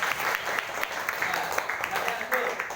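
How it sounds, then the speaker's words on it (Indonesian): A class claps in a steady burst of applause after a group presentation, continuous and fairly close, lasting a few seconds. "Kalau tidak ada, beri tepuk tangan untuk kelompoknya Mawar"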